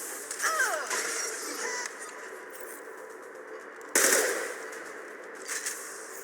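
Gunfire in the Mass Effect 2 video game: several sharp bursts, the loudest around the middle, over a steady noisy game backdrop and distant crackle.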